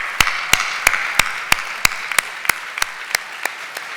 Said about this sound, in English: please stand up and give a round of applause to all the cancer survivors and their families